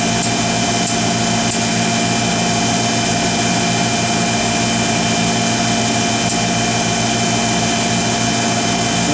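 An Oxford Plasmalab 800 Plus PECVD system pumps down with a steady, loud mechanical drone and hum that holds without a break throughout, with no voices present.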